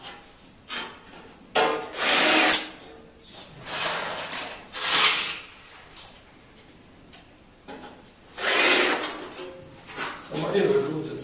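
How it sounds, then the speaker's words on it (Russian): A power screwdriver drives fasteners into boxing built around bathroom pipes, giving several short whirring bursts with handling knocks and rubbing between them. A person talks at times in between. "То есть вот по краям я прикручиваю."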